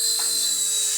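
Tail rotor of a GoolRC K127 micro RC helicopter spinning, a thin high-pitched whine with a faint mechanical buzz, close and steady for a brief moment.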